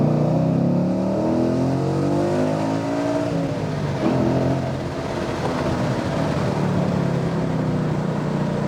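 A 2014 Ford Mustang GT accelerates hard around a back lot, its engine roaring loud and steady from inside the car as revs climb, ease briefly, then build again.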